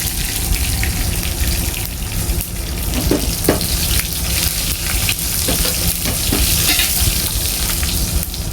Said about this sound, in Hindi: इसके बाद अम्मा ने ये देखें तड़का लगाया।